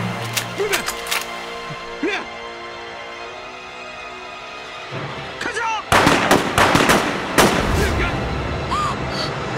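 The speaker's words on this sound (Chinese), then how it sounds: "熊爷，铁熊，你要是再不乖乖束手就擒的话，我可真的开枪了！" Gunshots ring out in a tense TV drama standoff, several sharp, loud cracks with a dense burst near the end, while people talk and shout around them.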